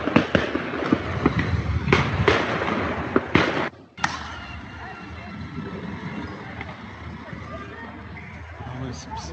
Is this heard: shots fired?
yes